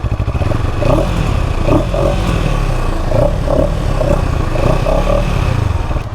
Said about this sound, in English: I'm going to go ahead and fire it up and let you guys have a listen to that parallel twin.